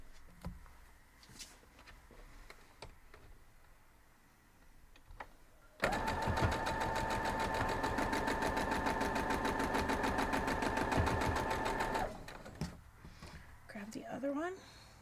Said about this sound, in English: So we'll head over and sew them.